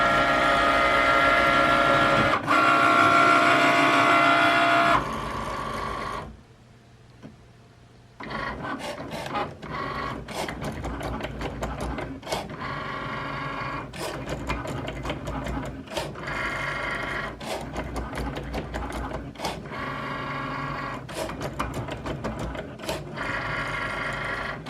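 A Cricut cutting machine cuts a design for a birthday shirt, whirring motor runs and rapid mechanical clicks in bursts, with a short pause partway through, no speech.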